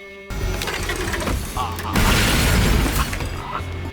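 Wrecking ball area attack in the card battler Death Roads Tournament, a loud crashing, shattering impact with booming low rumble that swells midway and sustains before fading, alone without talk.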